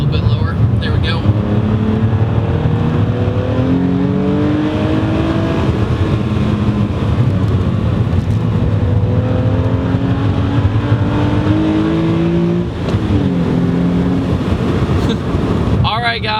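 A Hyundai Genesis Coupe works through an S-curve, its engine note rising and falling with gear changes and throttle under constant loud road and wind noise, while a voice talks over it.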